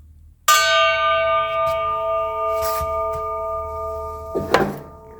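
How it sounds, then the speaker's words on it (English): A Masonic lodge chime is struck once with a sharp attack, then rings out with a long, clear, sustained tone that slowly fades, close by with a little handling noise near the end. "they've got a really nice chime. I'm going to give it a quick pound so you can check it out"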